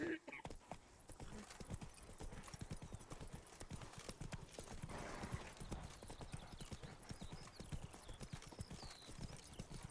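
Horse hooves clip-clop at a steady galloping rhythm in the Witcher III: Wild Hunt Blood and Wine expansion, loud and close throughout, with voices talking over the hoofbeats.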